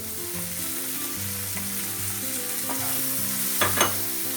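Fried mushrooms stirred into half-cooked vegetables in a pan over a lowered flame: a steady close sizzle with soft stirring scrapes throughout and a couple of sharper clatters near the end.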